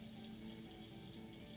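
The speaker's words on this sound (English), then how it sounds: "turn on some tepid or lukewarm water in just a small stream" Lukewarm water runs in a small stream from a sink tap, a faint, steady, even trickle with a low hum underneath and no speech.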